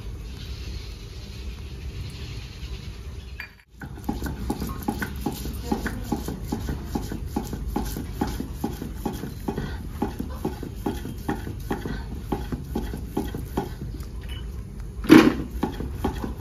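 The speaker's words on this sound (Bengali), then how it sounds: "টকের জন্য সাদা সর্ষেটা বেটে নেব" White mustard seeds ground on a stone grinder (shil), a steady rhythmic rasping and scraping of stone on stone, close and continuous after a brief pause near the start.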